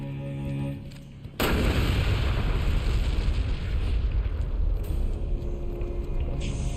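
Tank fire in the video game Resident Evil: Revelations 2 erupts as a sudden loud blast, then gives way to a sustained, heavy roaring rumble that fills the rest of the moment.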